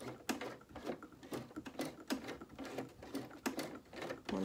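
A hand-cranked sewing machine stitches a shirt cuff near a button, producing a steady run of quick mechanical clacks in an even rhythm, close and moderately loud, with no talking.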